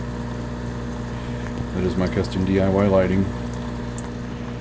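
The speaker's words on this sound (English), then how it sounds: "The noise you're hearing is the air pump there." Aquarium air pump running beside a planted 55-gallon tank, a steady low hum with bubbling water agitation throughout while someone speaks over it.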